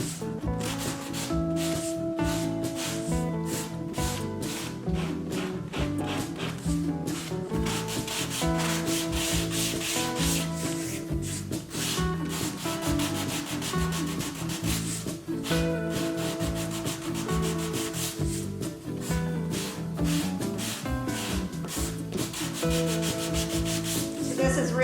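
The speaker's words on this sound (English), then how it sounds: "just take my sanding sponge along" Steady, continuous rubbing of a fine sanding sponge along the edges of a wooden painting mount, a dense scratchy texture with repeated back-and-forth strokes, close and fairly loud throughout.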